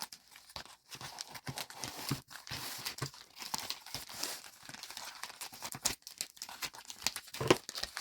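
A fabric delivery box is being cut open and unpacked, with packaging crinkling and tearing in close, busy bursts and short pauses throughout.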